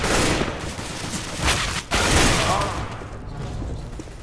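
AK rifle gunfire in Counter-Strike: Global Offensive, dense overlapping shots and bursts in a busy match, loud and continuous with a brief break midway.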